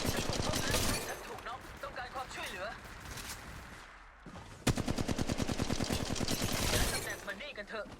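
Rapid automatic gunfire from the mobile battle-royale shooter Apex Legends Mobile, loud and dense in two bursts, with a short lull between them and game voices in the mix.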